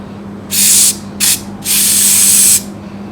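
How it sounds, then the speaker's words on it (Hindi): Spray cleaner hisses in three bursts, two short and one long, as it is sprayed into a remote control's tactile switch button, loud and close over a low steady hum. "उसके अंदर अच्छी तरह से स्प्रे हम लोग मारेंगे इसमें"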